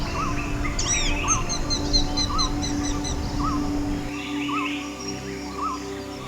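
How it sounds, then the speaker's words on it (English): A crested highland bird that eats fruit and insects calls repeatedly with short, bright notes over a steady natural ambience, with no talking. "This fruit and insect-eating bird is very difficult to spot by birdwatchers."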